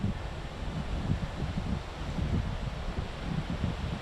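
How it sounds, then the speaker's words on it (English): Wind blowing outdoors on a gusty day, a steady broadband rush with low rumbling buffets against the microphone, fairly loud and continuous with no voices. "It is windy today,"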